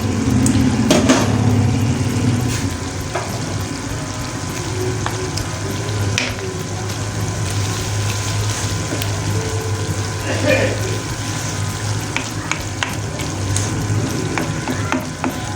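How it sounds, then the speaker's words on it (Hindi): Garlic ginger paste frying and being stirred in a pot for beef karahi, a steady close sizzle with scraping spoon clicks throughout. "और इसमें अब मैं डाल लेती हूँ लहसुन अदरक का पेस्ट।"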